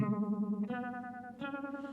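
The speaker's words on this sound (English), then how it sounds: "I'm going to max the foot pedal all the way out so you can kind of hear what this sounds like." A sustained guitar note through a Sabbadius 1969 Uni-Vibe pedal, foot pedal at full sweep, carries a rich distorted tone with a pulsing, wavering chorus-like throb, shifting pitch twice, with no talking.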